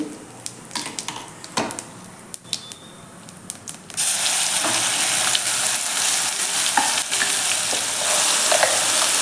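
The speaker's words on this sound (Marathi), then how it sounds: "आता लगेचच आपल्याला हे वाटण घालून घ्यायचे आहे" A ground spice paste (vaatan) goes into hot oil in a wok already seasoned with cumin and asafoetida, for smoky masala bhindi with okra. A few light clinks come first, then a loud, continuous sizzle and hiss takes over and holds steady.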